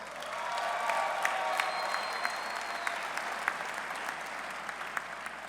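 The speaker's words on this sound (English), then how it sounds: "Give yourselves a round of applause." A crowd at a West Virginia University football coach's introductory press conference applauds, with broad sustained clapping and a few sharper individual claps standing out, fairly distant and even.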